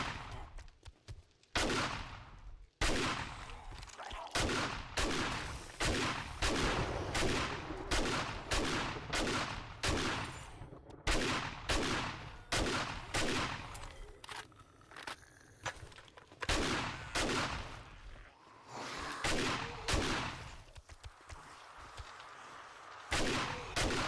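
Shotgun fire in the survival video game 7 Days to Die rings out as a long run of loud, evenly spaced blasts, about one each second, with brief gaps between shots.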